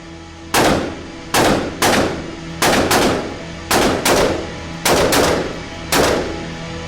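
Gunfire as a sound effect for a police officer firing wildly: loud, sharp shots, mostly in doubled pairs, repeat about every second, each followed by a booming echoing tail.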